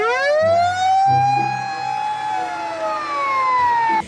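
A toy fire truck siren wails loudly and continuously, its pitch rising and falling, with a low rumbling tone pulsing underneath.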